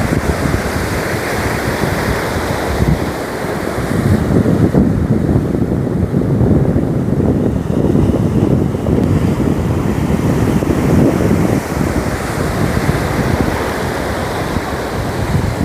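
Sea waves crash onto the shore at Muthalapozhi, making a loud, continuous roar mixed with heavy wind buffeting the microphone, with no voices.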